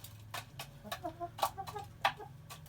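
Light Brahma chickens clucking nearby, a run of short soft clucks and a couple of sharper calls over a low background hum, no voices.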